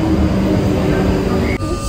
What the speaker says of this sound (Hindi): Oh wow, the train is here guys.